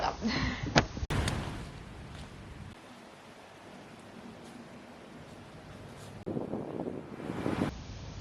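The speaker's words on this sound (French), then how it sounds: "Plus on avance dans la balade, plus le vent se lève" Wind gusts buffet the microphone outdoors during a walk, a rough rumbling roar that swells, eases in the middle and rises again.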